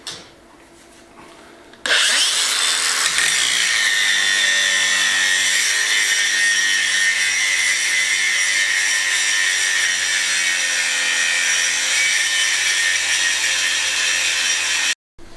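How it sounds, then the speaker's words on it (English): Angle grinder with a grinding disc grinding down welds on metalwork during a finca restoration in Spain, starting abruptly after a quiet moment and then running as a loud, steady, harsh whine close by for about thirteen seconds before cutting off. "So I'm going to grind them down with the grinding disc"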